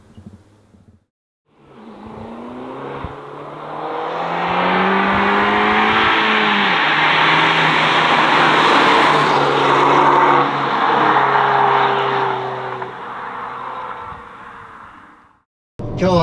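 Fiat Abarth 695 70th Anniversario driving, its small turbo engine rising through gears in a sustained loud rasp that swells and fades over about fifteen seconds, with clear rising engine harmonics.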